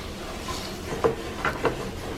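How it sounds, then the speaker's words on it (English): Utensil scraping the bottom of a pan of homemade chili just after beer is poured in to lift the stuck bits, with a few short scrapes and soft sizzling, close up and moderately quiet, no talking. "So we're going to put some in there and just kind of scrape the bottom of the pan."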